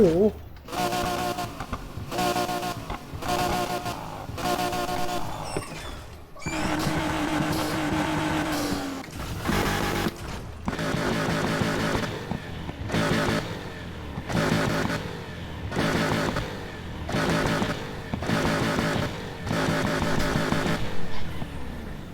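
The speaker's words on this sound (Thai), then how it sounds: "โอ้ยเฮียเสียงเครื่องแม่งดุเกิน โอ้ มีเสียงชัดเจอด้วยว่ะเสียงโทโบ" Modified pickup truck in Need for Speed Heat revving hard through repeated gear changes, each run of rising engine pitch cut off by a short break, with turbo whistle and a voice talking over parts of it.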